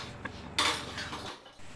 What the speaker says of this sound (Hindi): साथ साथ में बर्तन भी क्लीन करती रहूँगी